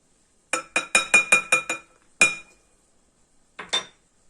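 A spoon knocks rapidly against a bowl while cake batter with walnuts and baking powder is stirred: a quick run of about seven sharp clinks, one more after a pause, then a final pair, loud and close with no talk.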